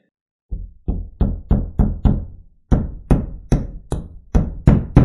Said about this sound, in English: I'm going to try to hammer some anchors in there